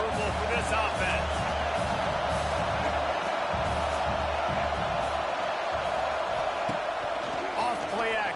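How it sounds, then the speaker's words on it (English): Stadium crowd in the College Football 26 video game: a dense, continuous roar of cheering fans throughout, with a play-by-play commentator talking over it. "This crowd trying to make life miserable for this offense."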